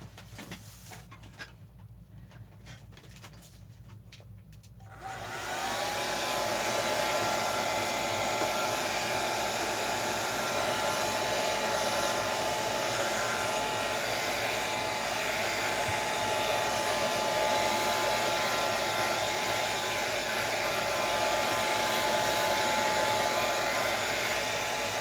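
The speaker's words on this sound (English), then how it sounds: "let me turn on my dryer, my blow dryer here, and dry this" After a few seconds of quiet rustling, a blow dryer switches on to dry a mixed-media altered book page and runs loudly and steadily with a constant whirring roar.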